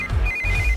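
A mobile phone ringtone rings loud and close in a short electronic burst, a steady high tone over a low throbbing pulse.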